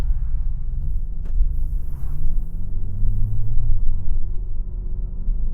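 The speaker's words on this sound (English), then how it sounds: "So setting off in the Mark 4 Cupra" A 2021 CUPRA Leon 300 MK4 pulls away with a deep, steady engine rumble heard from inside the cabin, rising slightly in pitch as it gathers speed, with no talking.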